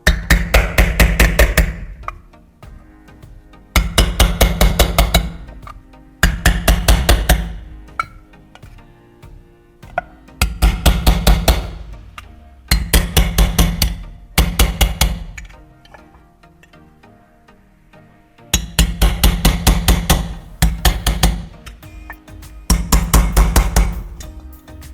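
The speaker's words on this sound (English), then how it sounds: "Next is the bottom of the tin. This part also needs to be punched with holes." A hammer punches holes in the bottom of a tin, loud and close, in bursts of rapid metallic taps separated by short pauses, repeated about eight times.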